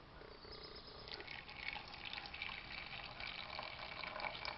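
Water poured from a tap into a Turkish coffee pot, a soft, close filling trickle that swells slightly as the vessel fills, alone without talk.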